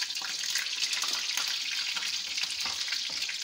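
Kebabs frying in a pan over a low flame give off a steady, even sizzle and crackle of hot oil, close and continuous with no talking.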